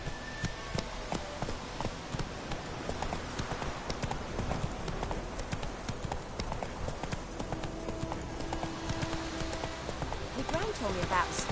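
Roach, a horse in The Witcher game, runs with steady clip-clopping hooves throughout, set against a busy layer of game ambience and music, with a voice speaking over it.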